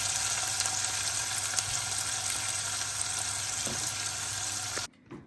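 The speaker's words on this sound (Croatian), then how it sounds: "Prvo što radimo, propržit ću luk." Chopped onion fries in heated oil in a pan, a steady close sizzle that continues without pause for several seconds before cutting off abruptly, followed by a faint clatter.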